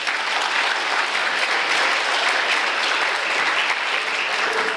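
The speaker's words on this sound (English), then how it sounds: "Give yourselves a round of applause." Warm, sustained applause from a crowd at a county Democrats fall fundraiser, dense and loud, clapping steadily from start to end without a pause.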